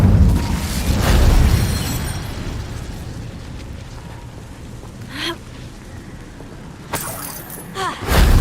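An Incendio fire spell is cast in Hogwarts Legacy with a loud burst and rumbling whoosh, followed by a lingering roar that fades, with sharper pops and crackles near the end.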